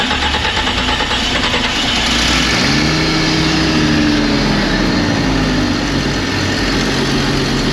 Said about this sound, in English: shall I start the engine or would you like to?